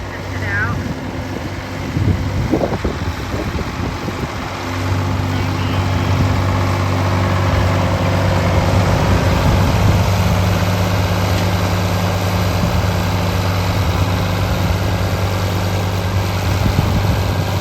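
A steady low tractor engine idle rumbles throughout, with a brief clatter early on and a faint voice near the start.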